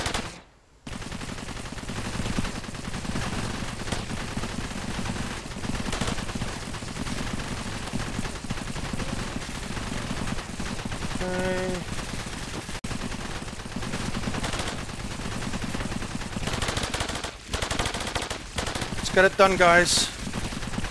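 Gunfire in the Cepheus Protocol video game, pandemic mode: sustained machine-gun and rifle shooting runs throughout with bursts near the end, under occasional speech.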